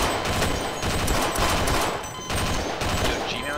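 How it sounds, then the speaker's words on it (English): Sniper rifle shots ring out in Sven Co-op, sharp loud reports in quick succession amid dense game combat noise, with a few faint voices underneath. "Sniper rifle, bro."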